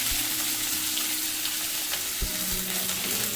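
Bean and ivy gourd leaves fry in a pan for leaf thoran, a continuous close sizzle with occasional stirring scrapes and no talking.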